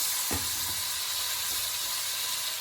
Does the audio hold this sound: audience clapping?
no